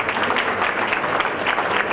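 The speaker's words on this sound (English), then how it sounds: "round of applause to the kids." An audience at a children's annual and graduation day claps for the kids, with dense, lively applause throughout a short stretch.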